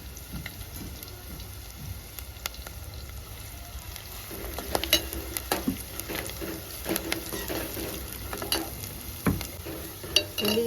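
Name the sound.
frying dried red chillies and curry leaves in oil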